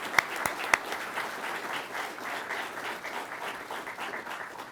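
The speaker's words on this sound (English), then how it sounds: "Please, a round of applause for the IPs." An audience at an undergraduate pilot training graduation applauds the instructor pilots. The steady, dense clapping sounds moderately distant, with a few sharp nearby claps at the start.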